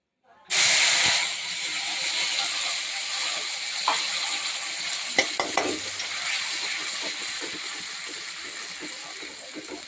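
Spice paste of onion, garlic, ginger, cumin, coriander and green chilli hits a hot pan with a sudden loud sizzle. The hiss then settles into a steady steam while a utensil scrapes and knocks against the pan now and then.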